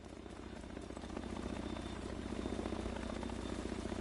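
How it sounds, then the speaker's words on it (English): A steady helicopter drone with rotor thumping hums continuously at moderate distance in the video game The Division 2, holding an even level throughout with no one speaking. "Why do I hear a helicopter?"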